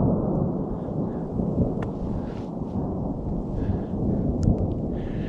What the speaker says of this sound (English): all of the lightning and thunder that's going on